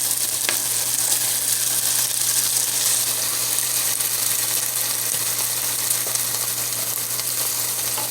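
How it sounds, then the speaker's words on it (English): Chorizo and seasoned potatoes fry in a pan with a loud, steady sizzle throughout, and faint scrapes of stirring come through the crackle. "Now we're going to stir them up. Chorizo's still cooking."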